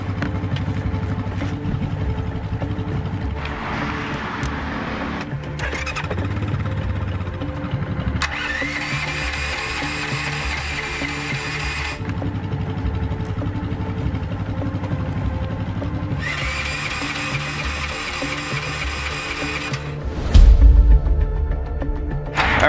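A portable generator is cranked again and again in repeated start attempts. Several several-second bursts of engine churning alternate with quieter gaps, ending with a heavy thump, all close and without speech.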